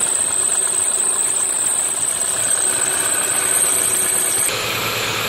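A 2011-2015 Chevy Cruze LS 1.8L engine idles steadily in a garage after an oil cooler replacement, a constant loud hum with a faint knocking texture and a high whine that drops out near the end.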